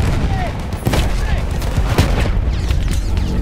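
Battlefield 1 game combat with a grenade explosion and gunfire, dense booming and crackling bursts mixed with speech and other in-game noise.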